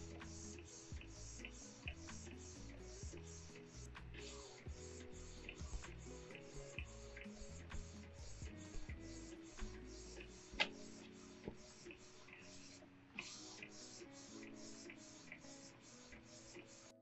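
A new printer running its ink-loading setup cycle, giving off steady rapid mechanical ticking and clicking with low motor whirring underneath, moderately quiet and continuous with brief pauses; no talking.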